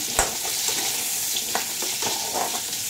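Pumpkin pieces fry in a hot pan for a vegetarian side dish, giving a steady close sizzle broken by a few sharp scrapes and taps from stirring, with no talking.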